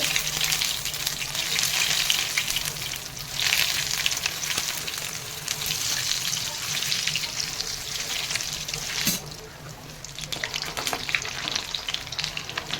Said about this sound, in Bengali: ফিশ ফিঙ্গারগুলো বার করে নিয়ে এসেছি এবার আমি ফ্রাই করব তেল পুরো গরম হয়ে গেছে